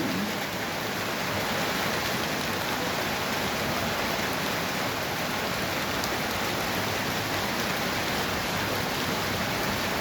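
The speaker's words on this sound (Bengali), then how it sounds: "আর কীরকম বৃষ্টি হচ্ছে দেখো" Rain falls steadily in a dense, even hiss that continues without a break, moderately loud and unbroken by voices.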